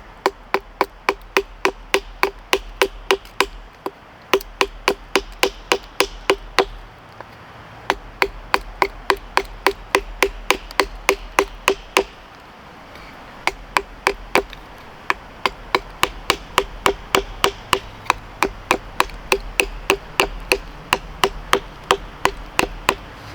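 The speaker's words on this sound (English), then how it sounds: "We're just chipping away and we're gonna make this pointed" A Lengren Dragon knife, 6 mm thick Sleipner steel with a 7.75-inch blade, chops wood to a point in rapid series of sharp, crisp knocks, in bursts separated by brief pauses, close and distinct with no talk.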